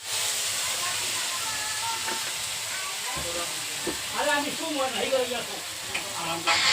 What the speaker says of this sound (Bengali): এটা একটা ভেন্ডির চচ্চড়ি হচ্ছে সর্ষে বাটা দিয়ে।